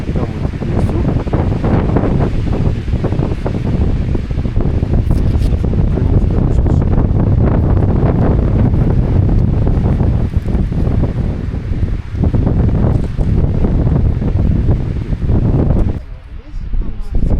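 Strong mountain wind roars loudly and steadily throughout, a dense rushing noise that eases only briefly near the end.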